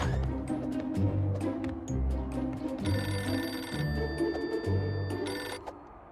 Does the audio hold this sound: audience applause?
no